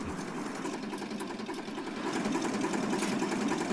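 Tractor engine idling in Farming Simulator 19, a continuous buzzy mechanical drone with a fast even chatter, steady and moderately loud for the whole stretch.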